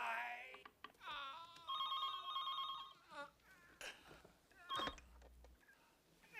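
A hotel room telephone rings in bursts of trilling electronic tones, loud and close, broken by short gaps and other noises.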